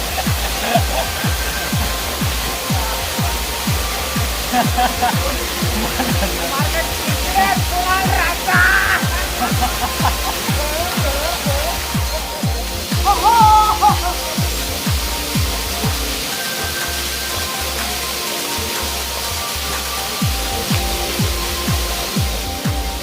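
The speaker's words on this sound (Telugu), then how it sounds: "ఈ వాటర్ ఫాల్ దుర్గపాడు వాటర్ ఫాల్" Durgapadu waterfall in Rayagada, Odisha, flowing at low volume after little rain, gives a steady broadband rush of falling water throughout, with faint bird calls over it.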